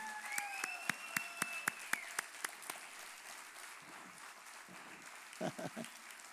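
Congregation clapping at a church's year-end closing service, a diffuse round of applause with some sharper individual claps, moderately distant and fading, with brief voices near the end.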